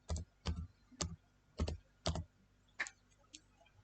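Typing an Excel COUNTIF formula on a computer keyboard: seven separate, distinct keystrokes at an uneven pace, close and fairly quiet in an otherwise still room.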